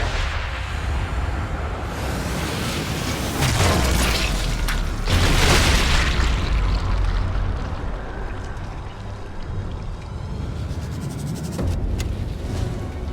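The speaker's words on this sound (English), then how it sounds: "shoot an explosive while Hitler is standing next to it" In Sniper Elite 5, an explosive is shot and detonates, giving a loud, rumbling boom with a long roar and debris, then a lower sustained rumble with scattered crackles.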